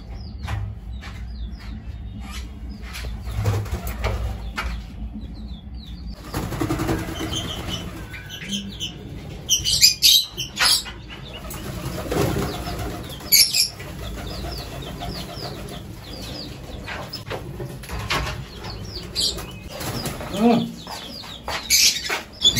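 Pigeons at a water dish flutter and flap their wings in bursts amid scattered chirps and soft coos from caged birds, with clatter and movement nearby.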